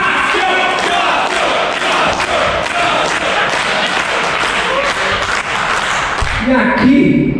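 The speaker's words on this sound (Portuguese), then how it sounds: "Por favor, uma salva de palmas ao nosso grande parceiro lá do Merchandising, Lucas Jaspio Aquirino." A live crowd at a drum tour event claps and cheers loudly and continuously for a merchandising partner, with shouts mixed into the applause and a voice breaking in near the end.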